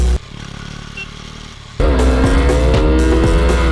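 A low droning hum gives way to a loud, throaty motorcycle engine running steadily close by.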